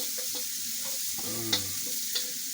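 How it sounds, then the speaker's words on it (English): A wooden stick stirs chapati-roll filling as it fries in hot oil over high heat. The sizzle runs steadily throughout, broken by two sharp scraping strokes near the end. "I'm going to cook that until it's golden brown. I'm gonna need a wooden stick to mix that."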